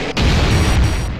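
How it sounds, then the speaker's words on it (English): A heavy cannon at a gun-control outpost in the game Messiah fires a single deep, booming blast that rumbles on in a sustained low roar. "this is a full-on fuck-off cannon"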